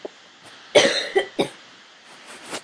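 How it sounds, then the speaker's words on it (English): A person coughs several times close by, a few short harsh bursts spread over a couple of seconds. "I don't know why I'm coughing."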